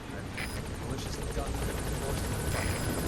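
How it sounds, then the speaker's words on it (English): Helicopter arriving at a landing zone in the video game Metal Gear Solid V, a continuous rotor rumble with faint radio-style chatter over it. "let's get the helicopter here so I save properly"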